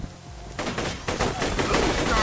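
Rapid gunfire in the Borderlands 2 video game, a dense stream of shots starting abruptly and continuing steadily, loud and close, with faint talk underneath.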